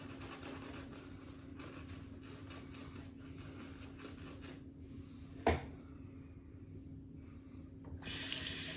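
Tap water running into a sink during a straight razor shave with thirsty shaving soap, a quiet steady stream throughout, broken by a brief knock partway through and a louder rush of water near the end.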